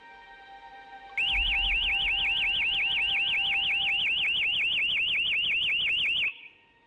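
A CCTV site motion detection alarm goes off with a loud, rapid warbling electronic siren that pulses steadily for about five seconds and then cuts out abruptly, with a low hum beneath it.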